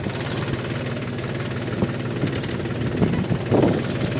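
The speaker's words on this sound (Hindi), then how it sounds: "ये देखिए महिंद्रा 265 DI का कमाल गन्ने की जुताई कैसे कर रहा है पेटी की" A new Mahindra 265 DI tractor with 12.4-28 tyres ploughing a sugarcane field, its engine droning steadily and fairly loud with a low rumble and a few brief rattles, no voices.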